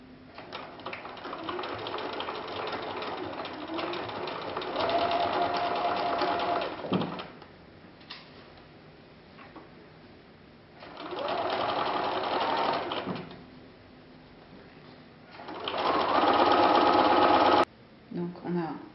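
A sewing machine stitches an invisible zip into fabric with lining, running in three steady, fast-whirring stretches separated by pauses where someone talks quietly.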